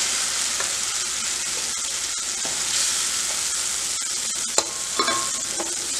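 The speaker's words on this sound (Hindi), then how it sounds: "अब ये जो मसाला है हम थोड़ा सा सारी दाल के अंदर मिक्स कर देंगे" Fried masala stirred into dal tadka in a pan, heard as a dense, steady sizzle up close with a few light scrapes and taps from the spoon near the end, without any speech.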